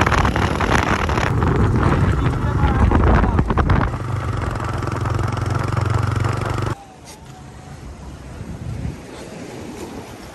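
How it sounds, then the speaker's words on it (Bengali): Strong sea wind buffets the microphone on Patenga sea beach in Chittagong, a loud, continuous roar mixed with surf that drops off abruptly partway through and then continues more softly. "প্রচন্ড পরিমাণ বাতাস"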